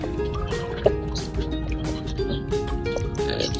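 Water pours and splashes into a home fountain as fish are released back in, making a continuous close gurgling and trickling with scattered drips and small splashes.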